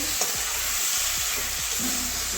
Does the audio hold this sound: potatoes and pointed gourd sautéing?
yes